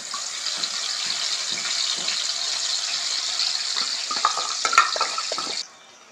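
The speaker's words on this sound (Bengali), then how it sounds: "তেলে মশলাটা দিয়ে দিচ্ছি।" Spice paste frying in hot oil makes a bright, steady sizzle with scattered light clinks. It cuts off sharply near the end, leaving near silence.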